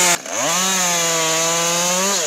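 Chainsaw revving steadily while cutting into wood during traditional carpentry work with axes, a loud close engine whine rising from a brief start then holding a sustained high pitch alone for about two seconds.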